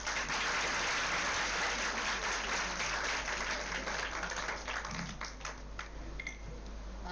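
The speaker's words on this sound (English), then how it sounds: "They deserve a good applause." Sustained audience applause at a palliative care seminar after a performance, steady dense clapping filling the room for about seven seconds, tapering slightly toward the end.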